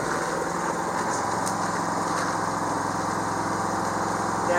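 A new Generac portable generator runs at a truck camper, giving a steady, even engine drone with a buzzy mechanical hum throughout, close and continuous, with no talking.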